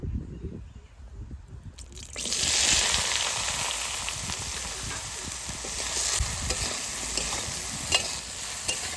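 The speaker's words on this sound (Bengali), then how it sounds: "এবার ঝিঙেগুলো ভালো করে ভেজে নেব" Ridge gourd pieces drop into hot oil in a pan. After a quiet start, a steady loud sizzle and crackle swells in and holds to the end, with occasional stirring noises.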